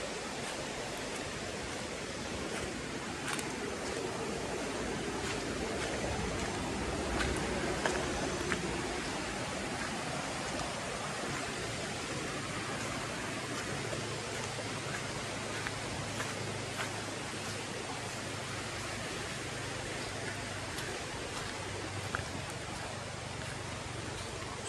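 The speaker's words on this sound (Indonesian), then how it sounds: "Tengok keadaan sungai yang agak deras juga airnya." Steady, dense rushing of a fast-flowing river swollen after a flood fills the whole stretch, a constant broadband roar with no voices.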